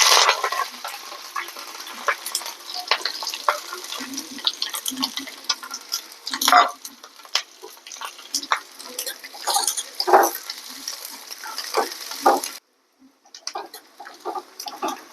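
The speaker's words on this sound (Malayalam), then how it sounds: "ചൂടായ നെയ്യിലേക്ക് നമ്മൾ കുറച്ച് ചെറിയ ഉള്ളി, കറിവേപ്പില, പിന്നെ ഇതാ അണ്ടിപ്പരിപ്പുണ്ട്, എല്ലാം കൂടെ വഴറ്റുക" Shallots, curry leaves and cashews sauté in hot ghee for a beef kuruma, giving a crackling hiss with sharp stirring clicks and scrapes, and a short silence near the end.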